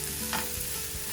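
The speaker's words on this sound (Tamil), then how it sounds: "இப்போ வெங்காயம் ஒரு கொஞ்ச நேரம் வதங்க விடுவோம்." Chopped onions sautéing in a pan while a chicken cheese roll filling is prepared, giving a steady close sizzle with one brief stirring scrape partway through.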